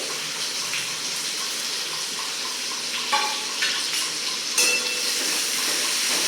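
Finely chopped onion frying with cumin seeds in a pan for palak paneer, a steady close sizzle with a few brief louder crackles and stirring scrapes.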